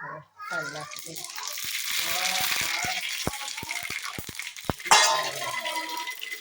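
Spices are tempered in hot oil in a pan while handvo is made, a steady hiss and sizzle with scattered sharp crackles and pops, close up, as someone talks over it.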